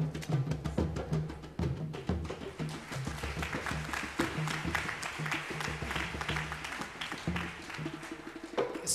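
An audience applauds at a talk, a dense rattle of many hands running throughout with some louder claps near the front and faint voices underneath.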